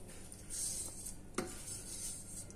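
Latik stirred in a pan for suman, soft scraping and clinks of a utensil against the pan with one sharper knock midway, faint and close.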